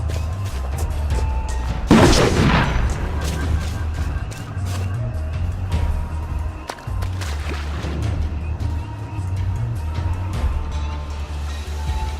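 A grenade explodes in the video game We Happy Few: one loud, close blast with a rumbling decay, over a steady low in-game hum that runs throughout.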